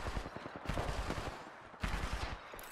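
Rapid automatic gunfire rattles in Apex Legends late-game ranked play, with close bursts of repeated shots in a few quick volleys.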